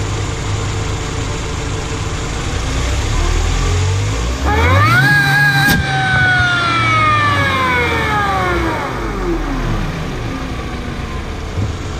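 A turbocharged engine idles, then revs hard with a rising whistling whine that sweeps up and slowly falls away as the throttle is released, loud and close throughout.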